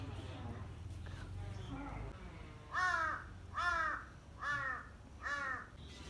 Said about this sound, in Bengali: এই কাক আইসা পড়ছে খাওয়ার জন্য